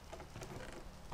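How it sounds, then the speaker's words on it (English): Rain falls in the modded Minecraft pack Agrarian Skies 2 as a faint, steady patter that holds evenly throughout, with a brief louder swell at the very end. "And now it's raining."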